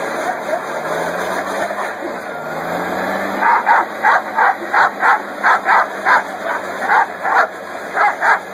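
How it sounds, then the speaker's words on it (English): A puppy with a new toy barks and yips in a quick, steady run of short, sharp bursts, close to the microphone and fairly loud, following a few seconds of quieter background noise. "The cutest puppy in the world, man."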